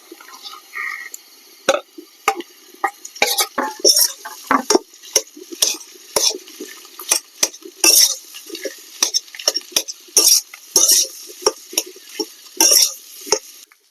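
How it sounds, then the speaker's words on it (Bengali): Mashed potato stirred into fried onions in a pan for a stuffed chilli pakora filling: a steady run of scraping, clinking spoon strokes against the pan, close and fairly loud, repeating roughly every half second. "এখানে পেঁয়াজ ভাজা হয়ে গেছে, এবারে ম্যাশ করে রাখা আলুটা দিয়ে দেব।"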